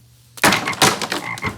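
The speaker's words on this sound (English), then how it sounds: "God is gonna send frogs." Frogs croaking in a cartoon, a sudden loud burst of raspy croaks starting abruptly and repeating quickly for over a second, alone with no talk.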